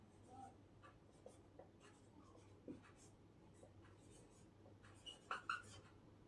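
Pen writing an English translation by hand on paper: soft, faint scratching strokes in a quiet room, with a few brief louder taps and scrapes near the end.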